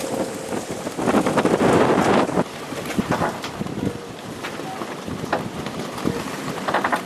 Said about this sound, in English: It only settles down when the bow swings around into the waves here.